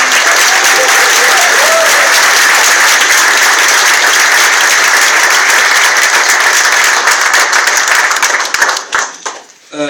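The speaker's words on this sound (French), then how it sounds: "Mais vous pouvez l'applaudir vraiment." Loud, dense applause from a convention audience at a fan event, a steady roar of many hands clapping close and continuous for most of the stretch before breaking up into scattered claps as it dies away.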